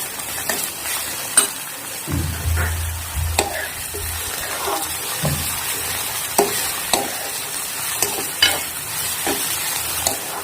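Sugar being stirred into bottle gourd halwa cooking in ghee, made with milk instead of khoa: steady frying sizzle with repeated spoon scrapes and clinks against the pan, close and alone.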